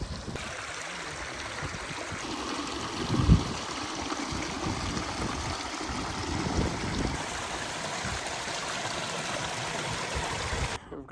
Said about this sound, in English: the spring water that's flowing down